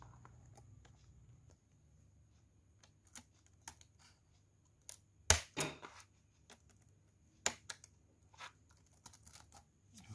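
A Dell Inspiron Mini 1012 laptop keyboard is pressed back into place: scattered light clicks and taps, with a sharp cluster of snaps midway, close and quiet over a low background hum.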